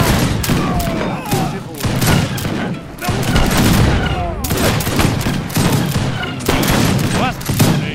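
Dense rifle volleys and scattered musket fire in the Age of Empires 3 video game, a battlefield din of overlapping shots and booms with game voices calling out in between.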